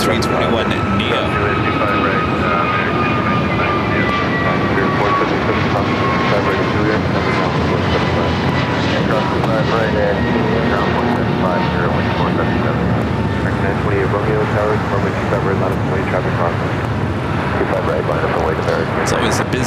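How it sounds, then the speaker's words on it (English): An American Airlines A321neo jet takes off at LAX, its engines giving a loud, sustained roar with a steady tonal whine that slowly shifts in pitch. A voice talks over the noise throughout. "Next takeoff, heading to somewhere, flight 2863. It's an American A321 Neo."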